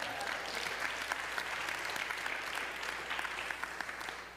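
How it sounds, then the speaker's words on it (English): A church congregation claps together during a Sunday service, producing steady, dense applause from many people that carries on evenly for several seconds, moderately distant and without talk over it. "Let's give the Lord a hand clap."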